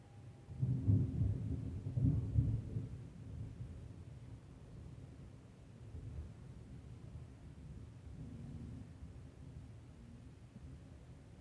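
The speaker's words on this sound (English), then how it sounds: "Guys, see that thunderstorm?" During a thunderstorm, thunder rolls in a deep low rumble that peaks loudest in the first few seconds, then fades into a steady dull background of rain and wind.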